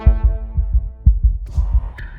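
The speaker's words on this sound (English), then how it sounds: "the sound of his heart pounding" A pounding heartbeat effect in a dark, Poe-style animated tale: steady, heavy low thumps repeat in a regular pulse, close and loud. A faint tonal hum runs underneath, and a brief higher tone comes in near the end.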